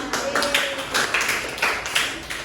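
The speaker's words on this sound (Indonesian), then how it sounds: "Tepuk tangan semuanya." Classmates in a primary school classroom clap together, a dense patter of many hands with a few uneven swells, close and moderately loud with no talk over it.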